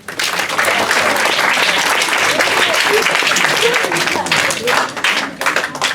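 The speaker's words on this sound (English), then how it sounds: "Clap if you do." An audience at an afternoon gathering bursts into sustained, dense clapping close by, holding steady for several seconds before thinning out near the end.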